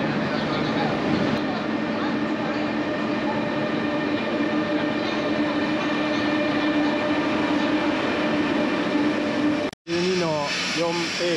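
A train pulls out of a station bound for Córdoba in Spain with a steady, continuous rumble and hum throughout, ending in a brief cutoff followed by a short burst of different noise.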